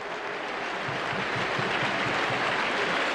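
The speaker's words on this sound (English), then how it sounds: "Good applause from the North End fans for their team" Football crowd of Preston North End fans applauding their team at full time after a 4-1 win, a steady dense wash of clapping from a large stadium crowd, fairly distant and continuous throughout.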